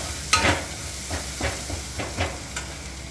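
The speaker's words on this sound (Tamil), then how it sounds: "நல்லா வதக்கணும்." Garlic sautéing in oil in a pan for Tamil-style garlic thokku, giving a soft, intermittent sizzle with several brief stirring scrapes spaced through the moment, fairly quiet and without talk.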